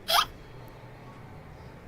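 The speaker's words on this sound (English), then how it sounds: "You got the hiccups." A person in a commentary booth at a billiards match gives one sharp, close hiccup at the start. Quiet room ambience follows.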